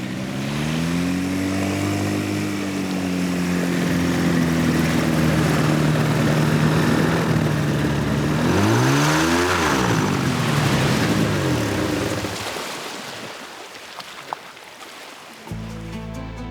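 A small propeller aircraft lands into the wind on Zanzibar, its engine droning steadily and rising and falling as it passes overhead, then fading toward the end.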